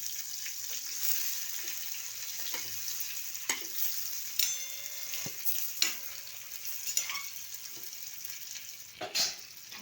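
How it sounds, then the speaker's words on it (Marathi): Whole brinjals fry in oil with garlic over low heat for ukad vangi. A continuous soft sizzle plays throughout, broken by intermittent spoon scrapes and clinks as the pieces are turned in the pan. "याच्यामध्ये एक एक वांगं सोडूया त्याला दोन्ही बाजूने फ्राय करून घेऊया"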